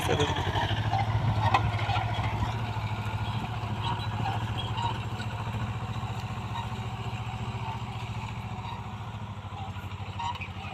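A Mahindra Jivo 245 DI tractor with a rotavator gives a continuous diesel engine rumble with a rattling throb, close by and steady, easing slightly toward the end.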